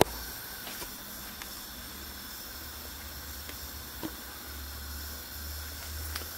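Beer wort boiling in a brewing kettle at the hot break, a steady low rumbling hiss with faint crackles, continuous and even throughout, with no talking.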